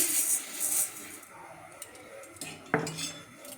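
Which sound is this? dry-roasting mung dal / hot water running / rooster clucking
dry-roasting mung dal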